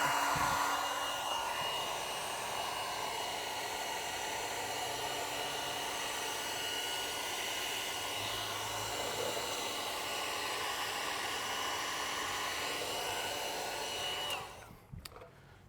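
A heat gun or hair dryer blows continuously while heating vinyl wrap on a Cybertruck panel, a steady close whooshing roar that cuts off abruptly near the end.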